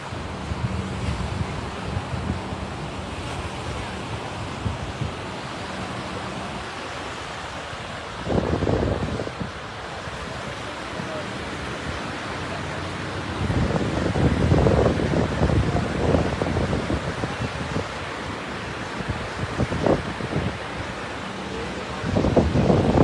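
A tsunami surge from the Tonga eruption rushes in and drains out at Pleasure Point, Santa Cruz, a steady roar of moving water with heavy wind buffeting the microphone and louder swells at intervals.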